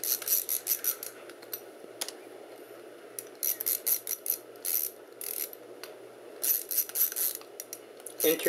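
Old disc player mechanism found at a flea market, whirring and clicking up close in uneven bursts of ratcheting, gear-like movement separated by quieter stretches.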